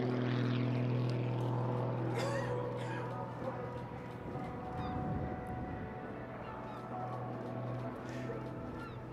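A propeller aerobatic biplane of Pitts design performing at a seaside airshow, its engine droning loud and fairly close before easing slightly as it maneuvers, under steady commentary.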